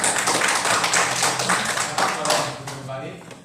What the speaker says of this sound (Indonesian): beri tepuk tangan untuk teman kita kelompok yang pertama sudah mempresentasikan